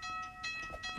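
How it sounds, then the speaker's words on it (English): Train approaching in the Roblox game Traffic Lights, a faint steady rumble with tonal whistle-like lines, distant and quiet. "The train is coming, Ben!"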